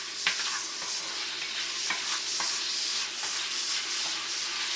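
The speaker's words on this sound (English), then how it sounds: "First you start with 4 strips of chopped bacon. I'm going to fry it until it becomes crisp." Four strips of chopped bacon sizzle steadily in olive oil in a pan, a constant bright crackle broken by occasional scraping stirs, heard up close with no talking.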